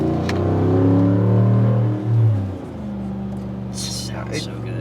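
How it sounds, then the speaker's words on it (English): A Jeep Gladiator with a 5.7L Hemi V8 and a 3-inch mandrel-bent stainless steel exhaust climbs rural hills, its deep engine drone rising in pitch and then settling lower, heard close from inside the cabin. "I want to see what this thing sounds like when you open it up a little bit going up these hills"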